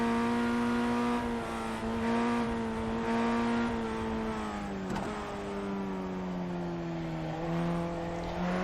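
An open-wheel formula race car in iRacing running at full throttle out of a hairpin, giving a steady, high engine whine that holds almost level with slight pitch shifts, continuous and alone.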